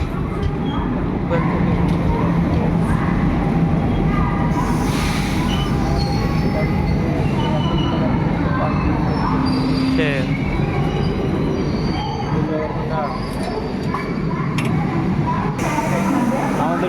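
The Puri–Howrah Express pulls in alongside a standing train with a continuous heavy rumble of wheels and wagons and occasional metallic squeals.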